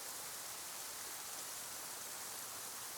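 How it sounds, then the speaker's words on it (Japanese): Steady, dense rain hiss fills the scene in the visual novel Tsukihime, a broad even wash of falling water with no pauses or voices. "so the noise echoing in my ears was the sound of rain falling"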